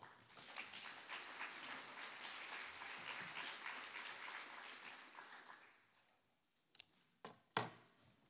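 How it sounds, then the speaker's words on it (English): Audience at a conference awards ceremony applauds a recipient, a broad round of clapping that holds for about five seconds, then fades out, leaving a few isolated final claps. "Please join me in applauding Bob."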